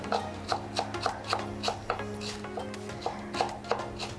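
A knife chops fresh cilantro on a board in quick, regular strokes that come close and clear, with a short pause in the middle before the rhythm resumes.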